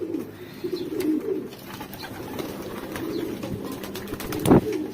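Domestic pigeons cooing steadily at close range in a home loft during feeding, soft repeated low coos over a faint background with a brief louder flutter or bump near the end.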